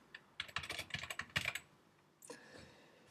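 Fingers typing an email on a computer keyboard, a quick run of soft clicking keystrokes, then a short pause and a few more taps, faint and close with no voices.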